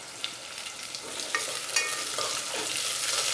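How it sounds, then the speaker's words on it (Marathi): Thinly sliced onion frying in a pan for vegetable pulao, a steady hiss of sizzling oil with a few scraping stir clicks from a spoon, close and moderately loud, no talking. "आता कांदा आपण पातळ कापून घेतला होता तो टाकूया।"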